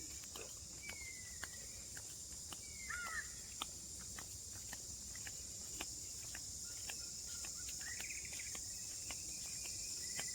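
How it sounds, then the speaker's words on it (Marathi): Short bird calls ring out now and then in Aarey forest, Mumbai, over a loud, steady drone of crickets, with faint footsteps in the background. "पक्ष्यांचे आवाज ऐकायला येत असेल तुम्हाला."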